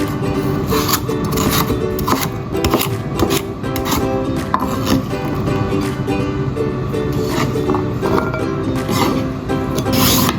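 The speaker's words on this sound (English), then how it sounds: "Peel and cubes carrot." A knife chops through a peeled carrot on a cutting board, cutting it into cubes for vegetable soup; a steady, dense run of close, rapid chopping and scraping strokes goes on without pause.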